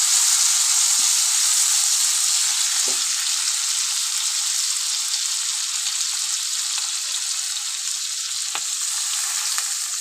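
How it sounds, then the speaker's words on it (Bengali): A hot pan for rohu fish curry sizzles steadily and loudly after water goes in, a continuous close hiss with a few faint knocks and no talking. "এখন আমি জল দিয়ে দেবো।"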